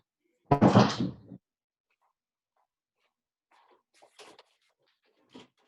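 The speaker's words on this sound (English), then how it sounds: "I'm going to shut the doors because we've got it on 3 different things and we're echoing all through the house." Interior doors in a house pushed shut: one loud, close thud with a brief rattle, followed after a quiet gap by a few fainter knocks and bumps further off.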